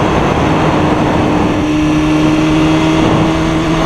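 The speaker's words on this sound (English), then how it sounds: "I'm surprised how smooth this engine is." A 2015 BMW S1000RR liter-class sport motorcycle engine runs steadily on a test ride through curves, a smooth continuous drone with a low hum and wind rush, loud and close throughout.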